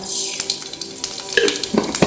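Mustard seeds frying in hot coconut oil on a stovetop, a steady close sizzle with small crackles and pops scattered through it, louder bursts near the end.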